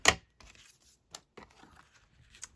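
Scissors snip through fabric while cutting a belly band for a pocket: one sharp, close crunch, a few soft rustles, then two more brief cuts spaced apart in a quiet room.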